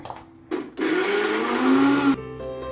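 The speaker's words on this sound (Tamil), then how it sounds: "சின்ன தக்காளி ஒன்று பெரிய தக்காளி ஒன்று இதையும் கூட போட்டு அப்படியே அரைச்சிடலாங்க" A mixer grinder grinds small and large tomatoes in a loud, steady whine for about a second and a half, cut off abruptly, with short bursts and quiet gaps around it and no talking.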